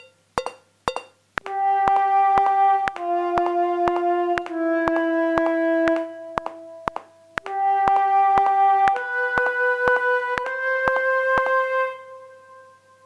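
An oboe plays a short unaccompanied exam exercise in 3/4 using very few notes, with clear sustained tones separated by brief gaps, loud and close, and a few sharp clicks at the start.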